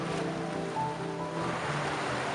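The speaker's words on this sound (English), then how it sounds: "pipes and chambers capture the sea's movements, creating natural, shifting notes that fill the air with a music only the ocean can compose" Sea organ pipes on the Croatian Adriatic coast give soft, shifting tones as waves push air through the chambers, heard under a steady wash of surf and sea noise, with no voices.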